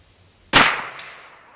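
A single sharp, loud gunshot from a 100-year-old Savage rifle firing lead bullets, a close crack followed by a fading outdoor echo.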